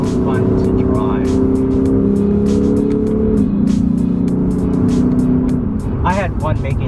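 A Lexus RC F engine revs hard and accelerates in manual Sport Plus mode, a loud steady roar with a rising tone near the end, and someone talking over it.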